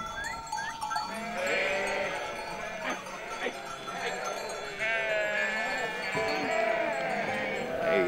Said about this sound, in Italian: Le pecore